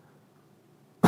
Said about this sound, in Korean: 당신 기침이 왜 이리 심해요?